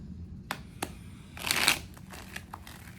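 Tarot cards being shuffled for a reading, a soft papery riffle and a few light taps and flicks, close and quiet with no talking.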